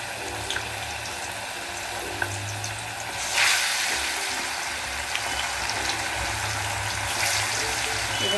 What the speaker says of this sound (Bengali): এভাবে করে ফ্রাই করে নেবো